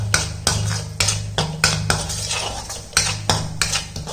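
A metal spoon scrapes and clanks against a pan while masala with asafoetida and turmeric powder is sautéed, with rhythmic strokes about every half second over a low steady hum, close and fairly loud.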